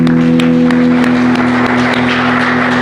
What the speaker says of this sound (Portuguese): Senhor Jesus, uma linda salva de palmas.